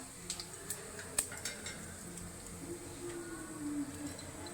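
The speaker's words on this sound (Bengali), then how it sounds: "ভাজা ভাজা করে নেব জিরেটা।" Whole cumin seeds with two bay leaves frying in hot oil in a pan, giving a soft steady sizzle with a few light clinks and scrapes of a utensil against the pan.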